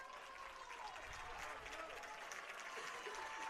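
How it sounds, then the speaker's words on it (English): Crowd applause from a student section and home fans at a high school boys soccer game, a faint, distant, steady wash of clapping with murmuring voices mixed in. "So a round of applause from both the student section behind his own bench and"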